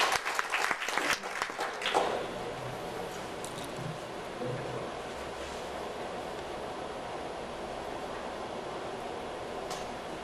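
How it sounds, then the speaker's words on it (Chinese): Audience applause at a 21st-century internet industry summit conference welcoming a consultant to speak, a dense steady wash of clapping that begins with a few louder claps and holds evenly to the end. "让我们热烈掌声来欢迎林顾问"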